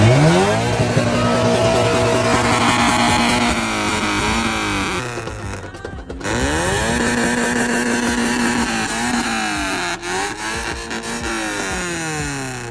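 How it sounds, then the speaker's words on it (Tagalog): A car fitted with a straight pipe exhaust revs hard at a car meet, a loud, raw roar climbing and falling in pitch over several throttle blips, close by. "Ang lakas, boss. Naka-straight pipe pa tayo, boss?"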